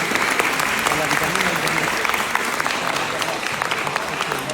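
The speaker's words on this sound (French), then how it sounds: "je vous demande de les applaudir aussi également bien fort" Crowd applause at a singing contest in Roubaix, continuous sustained clapping from many hands, fairly loud and even, with faint voices mixed in.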